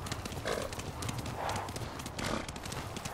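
A big thoroughbred horse gallops in the Ghost of Tsushima video game, its steady rhythmic hoofbeats clip-clopping at moderate volume from start to finish.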